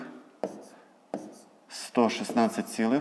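Pen or pencil writing numbers by hand on paper, with short scratchy strokes close up, followed by a person speaking over it.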